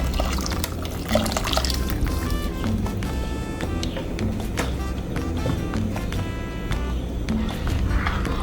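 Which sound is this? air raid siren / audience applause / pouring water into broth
pouring water into broth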